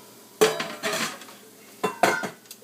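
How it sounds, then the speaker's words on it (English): A bowl is picked up and set down, giving two pairs of clattering knocks and clinks of dishware close by, separated by a quiet pause, with no talk. "I'm going to quickly grab a bowl right here to mix up my sauce."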